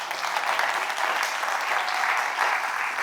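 A crowd at a church service applauds steadily, a dense wash of clapping that holds at even loudness for a few seconds.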